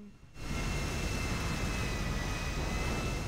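A Luxor private jet's engines roar in GTA 5, a steady, loud broadband whoosh and hum that swells in after a brief quieter start and holds without pause, no talking.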